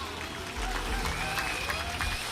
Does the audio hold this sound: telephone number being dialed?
no